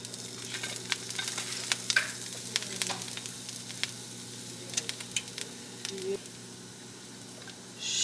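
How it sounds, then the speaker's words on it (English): Ginger and onion sizzle softly in a pan as they are stirred, a faint crackling fry with scattered clicks and scrapes over a steady background hum. "She's gonna put we got our ginger and onion in there. Gonna kind of stir that around a little bit."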